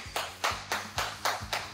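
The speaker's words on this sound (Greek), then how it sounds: "Ένα χειροκρότημα." Six sharp, evenly spaced claps ring out close by in a kitchen, a short steady round of applause for a finished cheesecake tart.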